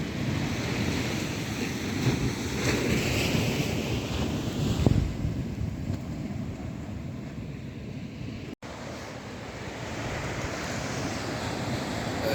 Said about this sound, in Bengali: সমুদ্রের যে গর্জন আপনারা নিশ্চয়ই শুনতে পাচ্ছেন।